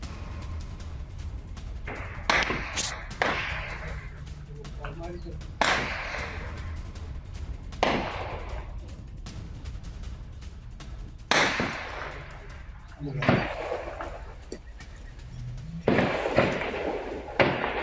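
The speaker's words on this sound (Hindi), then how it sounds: "गोलीबारी की आवाज हम सुन सकते हैं," Sharp cracks of gunfire from a security forces encounter in Kashmir ring out irregularly, several distant shots echoing over a steady background of low noise.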